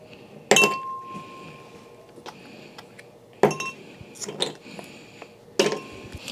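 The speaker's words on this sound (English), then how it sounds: "And we'll add our 6 cubes." Three sharp clinks of De'Longhi ice cubes dropping one after another into a glass, each a bright close ring with short decay, spaced a couple of seconds apart with quiet handling noise between.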